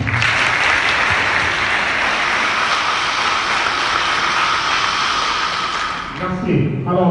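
Sustained, loud crowd applause fills a hall at a public address in Ouagadougou, steady dense clapping that tapers near the end as voices begin to emerge.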